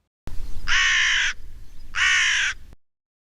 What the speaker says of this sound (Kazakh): Қарқылдайтын не? Қарға.